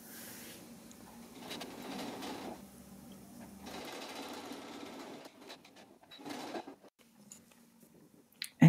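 A sewing machine stitches fabric strips for a decorative flag garland with a 1/4 inch seam allowance, running in steady whirring bursts broken by short pauses and a few quiet handling clicks near the end.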